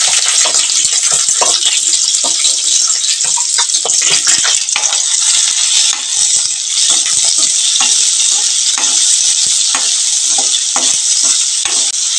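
Onions and green chillies frying in hot oil in a pan give off a loud, steady, close sizzle, with scattered scraping and clinking from stirring throughout.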